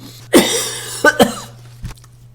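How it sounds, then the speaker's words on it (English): A single harsh cough, then two quick coughs close together and a faint throat sound, close to the mic in an otherwise quiet room with a low hum. "my sneezes have recently, today, been replaced by coughs"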